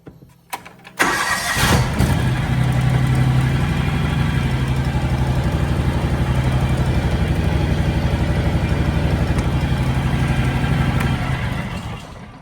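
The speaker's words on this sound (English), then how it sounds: "let me go ahead and start the mower" A John Deere X728 riding mower engine is started: a short crank, then it catches and settles into a loud, steady idle that continues close by until it fades slightly at the end.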